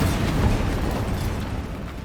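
A Bombarda spell blast in Hogwarts Legacy, deep in a mine: a loud, sustained boom with a rumbling low body that slowly fades over two seconds, with no voices over it.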